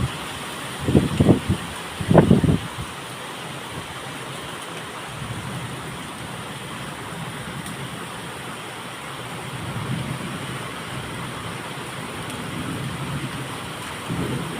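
Rain falls steadily as a broad hiss during a storm with lightning and wind, preceded by a few loud close knocks early on.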